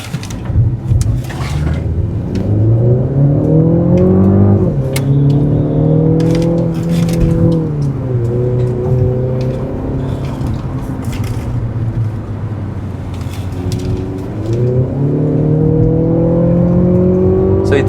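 A 2023 Mercedes C200 engine accelerating on a Dhaka road, its rising whine and rumble climbing through gears in several sweeping pulls, close and steady, with no talk over it.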